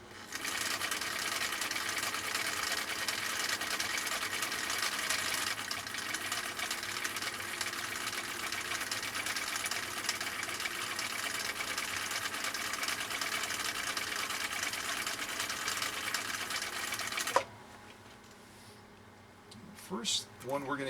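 Steady, fast mechanical whirring and clatter from a 1959 Husqvarna Viking CI-21A sewing machine running a decorative stitch, close and continuous for about seventeen seconds before stopping abruptly, leaving faint handling noises.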